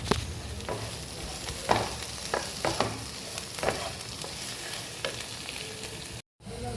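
Fried paneer stirred into spicy masala in a pan: a soft, steady sizzle with repeated spoon scrapes and knocks against the pan, close and without voices, ending in a brief gap of silence.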